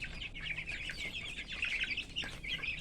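Chickens cluck continuously and close by, a busy chatter of overlapping calls with no talking; the birds are recovering from illness.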